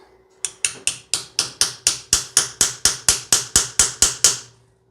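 About sixteen sharp metallic hammer blows in a steady, fast rhythm, each ringing briefly before the next strike.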